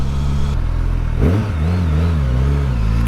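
A 2024 Suzuki GSX-S1000GX motorcycle engine idles, then gets a sharp twist of the throttle that sends it revving up and settling back into a wavering, rumbling idle, loud and close.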